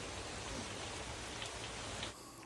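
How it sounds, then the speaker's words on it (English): Heavy rain pouring down in a garden, a dense steady hiss of falling water that stays even and close for the whole span. "It's at this point that the rain came down like cats and dogs."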